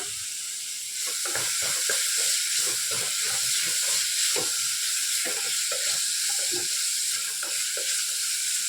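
Chopped carrot and other vegetables sauté in oil on low heat for a varagu rice biryani, with a constant close sizzle and rapid, rhythmic scraping stirs running throughout.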